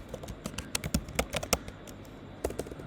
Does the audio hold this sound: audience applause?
no